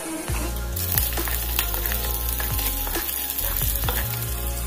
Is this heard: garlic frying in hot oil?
yes